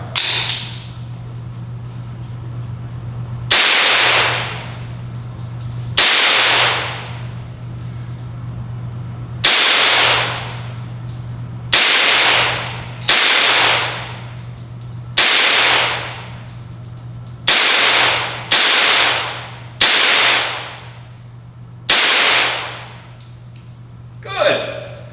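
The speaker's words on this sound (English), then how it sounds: "This is her first time shooting this kind of gun, a little 22." Tippmann M4-22 .22 rifle firing about ten sharp cracking shots at uneven intervals, each with a short ringing tail, over a steady low hum; someone speaks between shots.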